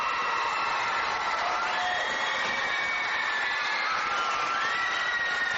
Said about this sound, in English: The crowd roars, the bench smiles.